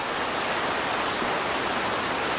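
The Prut river flows beneath a suspension bridge near Mykulychyn as a constant, dense rush of water, smooth and unbroken throughout with no voices.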